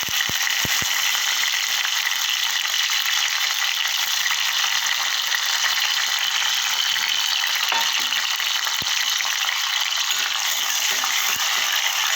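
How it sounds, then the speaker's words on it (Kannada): Raisins, cashews and pineapple fry in ghee with a loud, continuous hissing sizzle, broken now and then by faint clicks and pops. "ಫಸ್ಟು ದ್ರಾಕ್ಷಿ ಗೋಡಂಬಿ ಮತ್ತು ಅನಾನಸ್ನ ತುಪ್ಪದಲ್ಲಿ ಹುರಿದು ತೊಗೊಂಬಿಡೋಣ"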